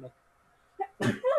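A person sneezes once, sharp and close, with a brief voice just before and right after it.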